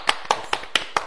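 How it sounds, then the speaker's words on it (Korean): Five sharp hand claps at an uneven pace, close and fairly loud, given by a studio talk-show host in praise of medical staff. "박수. 박수."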